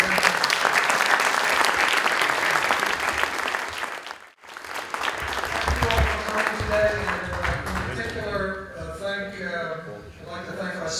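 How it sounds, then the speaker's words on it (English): A crowd at a business event applauds Frank in a loud, sustained round that briefly drops out, then resumes under talking and music-like tones. "Everyone, a round of applause for Frank."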